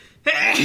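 One close, loud human sneeze bursting abruptly out of near silence and trailing off, with no talk around it.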